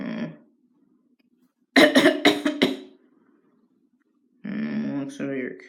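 Four or so rapid, harsh coughs break out close and loud in a severe fit, with speech just before and after.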